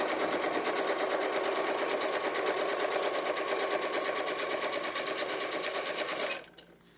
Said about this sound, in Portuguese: coloco no ponto maior que a minha máquina tem, aí eu vou passar duas costuras aqui